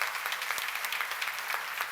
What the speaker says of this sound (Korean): 에너지 박수 좀 세게 쳐.